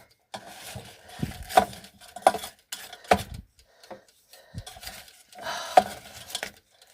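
A spoon clinks and scrapes against a pot while stirring a chicken dinner being cooked in a van, with a few sharp knocks and quieter scraping between them.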